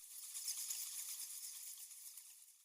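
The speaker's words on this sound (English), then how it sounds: "this other sound that we have is literally just bats from a YouTube video" High-pitched chittering and squeaking of bats, a continuous fluttering chatter that stays faint and thin, with no low sounds beneath it.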